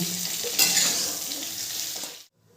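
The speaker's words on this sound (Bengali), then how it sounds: "ফুলকপিটা ভালো করে ভেজে নেব।" A whole cauliflower fries in hot oil with a loud, close sizzle and occasional stirring scrapes. The sizzle swells briefly, holds steady, then cuts off abruptly near the end.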